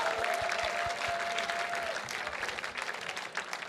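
A room of gala guests applauds donors during a fundraising auction, steady clapping that is fairly soft and distant and gradually tapers off toward the end, with a few voices underneath.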